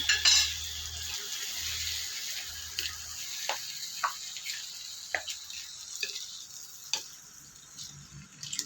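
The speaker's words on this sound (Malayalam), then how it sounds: "ഇനി നമുക്കൊന്ന് ഇളക്കി കൊടുക്കാം." Food stirred in a pan for a curd rice meal: a low sizzle under a series of spaced scraping taps and clicks of a spoon against the pan, fairly quiet and close.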